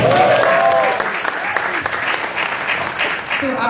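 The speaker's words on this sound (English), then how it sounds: "why not a round of applause, right?" A crowd at a movie music launch event applauds superstar Rajinikanth, sustained clapping rising after a voice, with some speech and cheering mixed over the applause.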